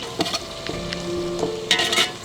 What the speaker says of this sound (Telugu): ఇప్పుడు ఉల్లిపాయ, పచ్చిమిరపకాయ, కొంచెం కరివేపాకు వేసాను.